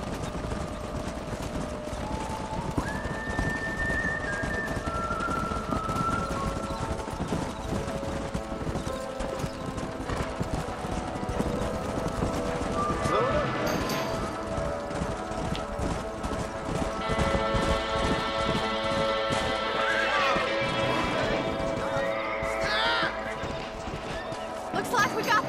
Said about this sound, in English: What magnificent animals they are. Hey, the stallion's getting away.